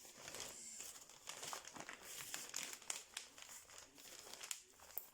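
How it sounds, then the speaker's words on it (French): Bubble wrap crinkling and rustling around a book taken out of an Amazon package, a steady close stream of soft crackles and crumples with small louder pops, quiet and without talking. "ils ont mis le livre dans le papier bulle"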